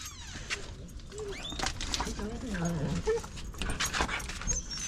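Highly trained dogs on a dawn mountain bike outing near Las Vegas whimper and yip in short, high, nearby bursts over a low outdoor background, with faint voices mixed in.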